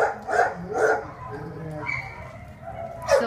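Several dogs bark in kennels at an animal shelter, sharp repeated barks echoing at medium distance with low background noise and a faint voice between them.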